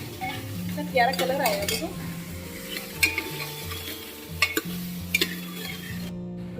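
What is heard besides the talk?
stirring spice masala into the dish in a pan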